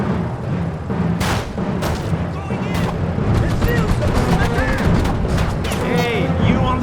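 Dense gunfire from the video game Mercenaries 2 on PS3, a continuous barrage of rapid shots and heavy booms close by, with brief voice lines mixed in.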